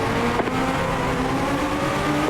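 Legends '34 Coupe race cars at Langley Speedway in the iRacing video game accelerate at a restart, with loud, steady engine roar and rising revs that carry through the whole clip.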